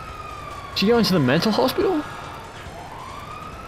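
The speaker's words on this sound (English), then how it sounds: "We gotta find out where that ambulance is going." An ambulance siren wails steadily in the GTA 5 video game, sustained and fairly close. Someone talks over it partway through.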